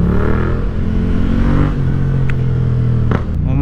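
A Yamaha MT-07 motorcycle is ridden on a road in Iloilo, its engine droning steadily and loud with heavy wind rush, the pitch holding fairly even with a slight shift partway through.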